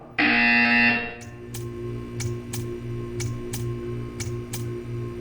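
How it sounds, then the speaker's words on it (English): A loud electronic buzzer in the video game Portal 2 sounds for about a second, followed by a steady series of faint regular ticks over a low background hum. "You will hear a buzzer."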